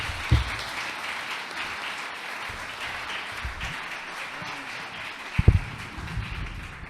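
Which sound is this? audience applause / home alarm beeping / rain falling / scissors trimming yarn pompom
audience applause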